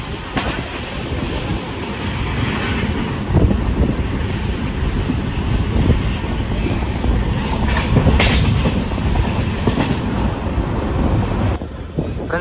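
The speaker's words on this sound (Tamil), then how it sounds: "மேட்டுப்பாளையத்தை கிளம்பி வண்டி போய்கிட்டு இருக்கு கோயம்புத்தூர் நோக்கி" A special express train from Mettupalayam heading nonstop toward Coimbatore, rumbling steadily on the rails with constant wind rush, recorded from on board throughout.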